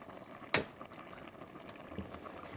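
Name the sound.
seaweed, squid and gochujang stew boiling in a pot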